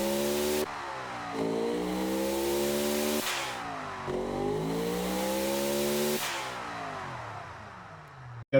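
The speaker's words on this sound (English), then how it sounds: "Man, those turbos are loud." A turbocharged car engine revs loudly in repeated rising and falling bursts, roughly three sweeping pulls with throttle lifts between, close and aggressive with no talk.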